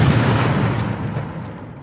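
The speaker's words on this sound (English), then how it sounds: "I always thought the lamest part of Titanfall 2 was the gun sound effects, so I made them more explosive." Explosive gunfire from a Titanfall 2 weapon recreated in Unity: a single loud, booming blast at the start that rolls off into a decaying rumble over nearly two seconds, with no speech.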